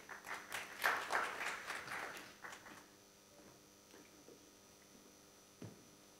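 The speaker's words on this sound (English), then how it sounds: "a round of applause" Brief applause from a business-fest audience in Abu Dhabi, a few seconds of scattered clapping that fades out, leaving a quiet room with a steady electrical hum and one faint late knock.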